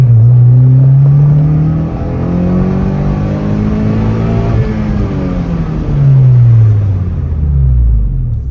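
A ninth-generation Honda Civic Si fitted with a big brake kit slows hard during brake bedding. Loud engine and road rumble fall in pitch across repeated decelerations, with no voices.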